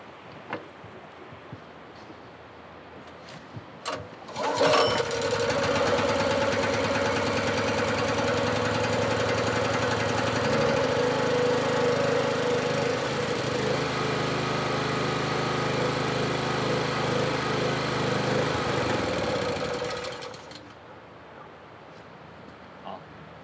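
A small engine with its choke on catches after a couple of brief pulls and roars into a loud, steady, rough run for about fifteen seconds before cutting out abruptly.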